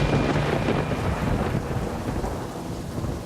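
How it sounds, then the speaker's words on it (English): Thunder rumbles low and heavy through a wet, windy wilderness storm by a riverbank camp, with rain hissing steadily underneath and the roll slowly fading. "We hear thunder."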